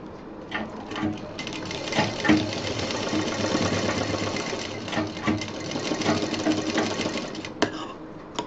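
A sewing machine runs steadily, stitching a zip onto a homemade college bag, with a continuous close whirring drone and brief slowdowns throughout.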